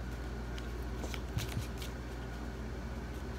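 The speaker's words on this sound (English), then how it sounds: "So I just shuffled up this deck. Shuffle it a little bit more, I won't look." A deck of playing cards being shuffled by hand, a soft, continuous riffling rustle with a couple of slightly sharper flicks midway, steady and close against a low background hum, with no talking.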